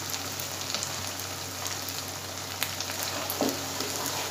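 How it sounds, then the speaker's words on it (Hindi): A sohan halwa mixture with almonds is roasted in a pan, giving a constant, close sizzling hiss with a few faint scraping stirs; no voices. "तो थोड़ी देर तक हम इसे अच्छे तरीके से भूनेंगे।"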